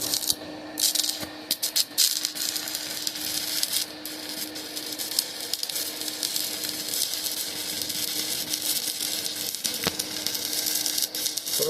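A Tesla MMA350 stick welder running an arc at 50 amps, with a steady crackling, sizzling hiss close up and small irregular pops throughout, no talking.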